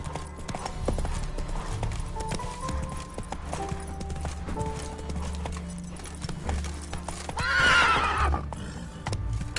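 Video game horse in The Witcher 3 trotting with steady clip-clop hooves under ambient game music, then a loud neigh rises briefly near the end; a voice speaks faintly.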